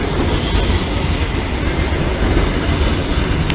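A train pulls away from the platform at Lincoln Central station with a loud, steady, close rumble of wheels and carriages, and no talk over it.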